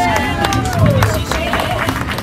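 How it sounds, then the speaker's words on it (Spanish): Applause rises from the crowd at an outdoor kiosk in Pachuca for the winner of a Rubik's cube tournament, scattered claps and crowd noise mixed under a voice talking over a loudspeaker. "Un aplauso fuerte, por favor,"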